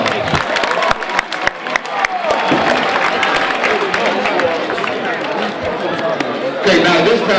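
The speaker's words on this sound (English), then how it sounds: "let's give our students another round of applause" Students at a high school Black History and gun violence assembly are applauded in a crowded hall, with clapping, cheering and chatter mixing together, loud and busy, with voices heard throughout.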